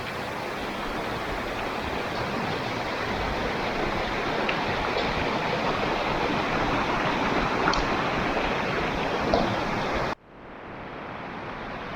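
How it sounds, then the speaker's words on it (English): A stream flows along Fish Run in the Laurel Highlands with a steady, full, close rushing hiss that cuts away abruptly near the end to a much quieter murmur. "Streams to the left of me, streams to the right."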